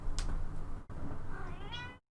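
A person imitates a cat's meow, giving one short, loud vocal meow early on and then a rising, drawn-out meow near the end, close to the mic and alone.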